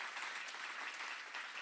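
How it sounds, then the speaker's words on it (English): A faint, even wash of applause from a crowd at a startup cohort presentation event, many hands clapping steadily at a distance with no voices over it. "round of applause again for our cohort."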